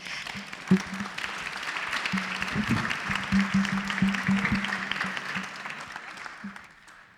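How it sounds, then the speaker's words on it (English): Audience applause for conference panelists at a summit, a steady roar of clapping sustained for several seconds before tapering off, with a brief spoken thanks near the start. "A big round of applause for our panelists."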